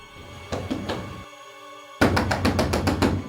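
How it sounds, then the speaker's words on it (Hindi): Firm knocks land on an apartment door in a CID crime drama, two bursts of rapid raps separated by a brief silent gap, close and loud with no talk over them. "ललिता, ललिता दरवाजा खोलो"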